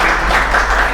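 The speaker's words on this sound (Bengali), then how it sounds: "হাততালি।" A short burst of applause from students in a university English language lecture class, loud and dense and lasting about a second.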